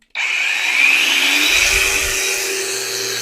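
A Grosser GAG 120N cordless brushless angle grinder starts up at its second speed setting and keeps running with a loud, steady high-pitched whine, a low rumble creeping in partway through.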